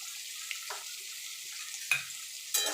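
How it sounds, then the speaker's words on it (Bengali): Ground chili, turmeric, coriander and cumin fry in oil for a bitter gourd dish, a soft sizzle with a few brief stirring clatters, close and quiet, no talking. "দিয়ে এই মশলাগুলো মিনিট খানিক একটুখানি ভাজা ভাজা করে নেব।"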